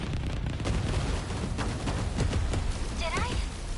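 Missiles fired and exploding in the video game 13 Sentinels, a dense, loud rumbling barrage of blasts and booms, with game voices heard over it.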